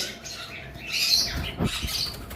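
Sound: sun conure parrots calling

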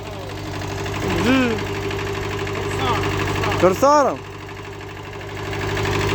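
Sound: Kubota B5001 Japanese tractor engine running

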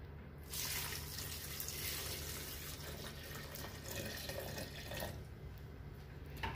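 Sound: water being poured into spice mixture for egg curry

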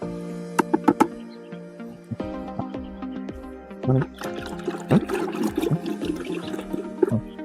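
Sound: stirring liquid fertilizer mix with a wooden stick

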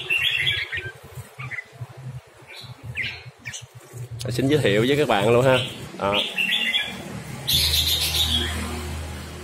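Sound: red-whiskered bulbul (chào mào) calling

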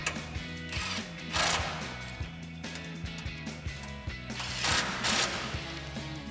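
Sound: ratchet with 13 mm socket tightening bumper bolts

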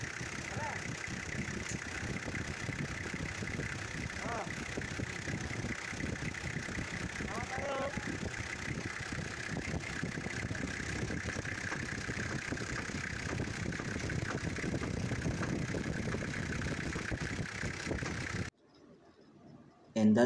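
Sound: car engine idling after camshaft seal replacement

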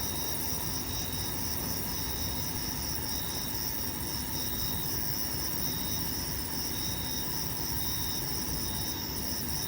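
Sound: crickets and cicadas

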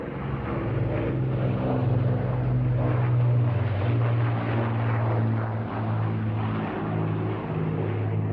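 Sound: Avro Lancaster bomber propeller engines

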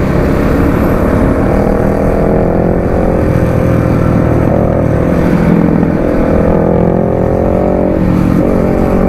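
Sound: Bajaj Dominar 400 motorcycle engine revving

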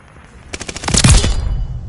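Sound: MP40 submachine gun fire in video game Call of Duty Vanguard

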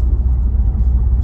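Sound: Cadillac ATS-V twin turbo V6 engine

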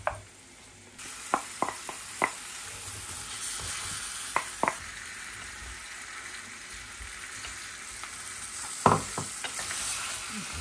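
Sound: onions and minced meat frying and being stirred

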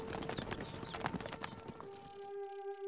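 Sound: horses galloping in video game Stronghold Crusader HD

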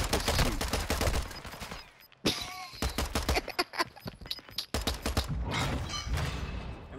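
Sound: gunfire in a video game

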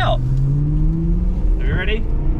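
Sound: BMW M3 engine revving while driving off-road

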